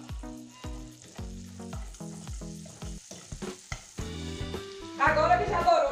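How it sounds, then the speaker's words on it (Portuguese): Sliced onions with a spoonful of brown sugar fry in a pan, a continuous sizzle with stirring that grows louder near the end, heard under a melodic music track. "E vamos fritar até dourar."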